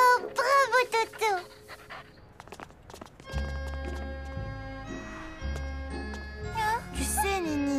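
A dog panting rapidly in quick bursts close by outdoors during a treasure-hunt game, with a child's and adult's voices talking over it and faint jingling and footstep sounds in between.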